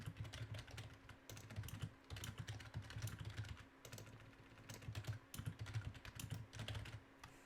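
Fast, continuous clacking of keys on a computer keyboard, entering mission briefing text in Microsoft Flight Simulator 2024, in quick bursts with brief pauses, close and fairly quiet.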